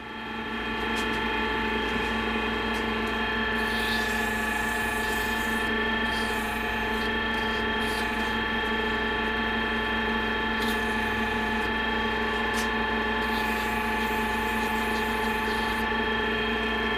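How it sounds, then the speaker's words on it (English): A Dremel rotary tool finishing and smoothing an antler ring, a steady high-pitched motor whine with a constant tonal hum and light grinding texture, running continuously and close throughout with no voices. "and then we'll finish her up with a Dremel"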